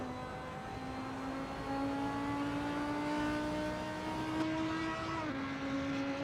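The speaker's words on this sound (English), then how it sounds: "So just standing in the pit lane and revving the engine" A race car engine in the Assetto Corsa racing game revs while standing in the pit lane, a steady droning tone that climbs slowly in pitch and then drops, moderately loud and without talk.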